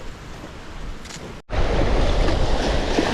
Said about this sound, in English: that wind's rough